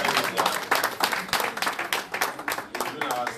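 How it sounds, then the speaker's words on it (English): A crowd claps steadily in a dense burst of applause, loud and close, with some voices mixed in underneath. "Please give Michael a round of applause one more time."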